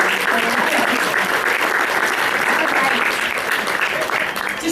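A large audience at a company rally applauds steadily, dense continuous clapping filling the hall at an even loudness, with some crowd voices blended in.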